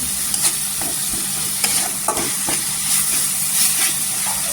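Dry masala stirred into a sizzling egg curry base in hot oil, with close, steady frying hiss broken by a few sharp scrapes of the spoon against the pan.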